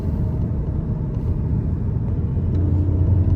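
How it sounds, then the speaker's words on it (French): A car engine climbs through the revs under steady load, a close, continuous low rumble that swells slightly toward the end, with no talking. "La faire monter dans les tours"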